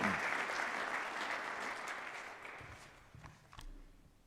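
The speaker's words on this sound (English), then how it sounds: "about an applause for Dr. Barlin?" Audience applause at a university honors convocation, a broad wash of clapping that starts full and gradually fades out, with a few scattered last claps near the end.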